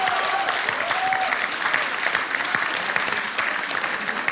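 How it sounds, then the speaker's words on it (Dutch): A studio audience at the finale of a TV game show breaks into steady, dense applause, a continuous wash of many clapping hands, loud and close with no talking. "dat is wel een applaus waard"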